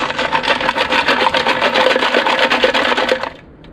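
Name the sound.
shaking rusty gas tank with nuts and bolts inside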